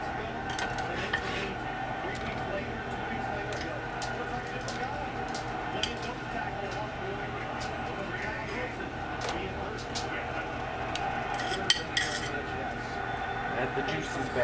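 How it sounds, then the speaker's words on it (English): Lamb stirred back into a pot of red wine and broth, with frequent utensil clinks and scrapes against the pot over a low simmering hiss while a voice talks. "And we're going to add the lamb back in to this and let that cook a little bit longer."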